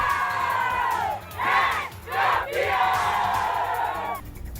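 Football supporters at a friendly between Flamengo and Sampaio Correia veteran teams, a dense roaring crowd that surges in two loud bursts before settling back into sustained cheering.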